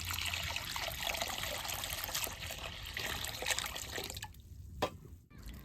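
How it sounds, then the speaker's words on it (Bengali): Water is poured steadily into a pot of lentils, a continuous splashing trickle that stops near the end with a few last drips. It is close and moderately loud. "জল বেশি করে দিব, এই জলে একবার ডাল ডুল সব হয়ে যাবো।"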